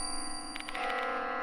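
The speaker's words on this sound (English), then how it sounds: "Where's this bell sound coming from?" A clock tower bell in the video game Death Mark 2 rings once with a clear, sustained metallic tone over a steady low ambient drone.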